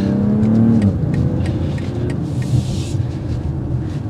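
A 2024 BMW X3 M40i crossover pulls away with a steady engine rumble that swells into acceleration, heard from inside or near the vehicle with no talk over it.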